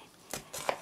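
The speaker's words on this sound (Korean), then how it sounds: "물이 끓는 동안 채소 썰어 보겠습니다" A knife chops an onion on a cutting board: two soft, quick cuts close by in a quiet kitchen.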